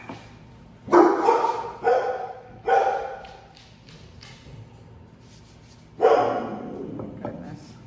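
Dogs bark nearby in a few sharp bursts, three close together, then a pause before a louder bark and a softer one.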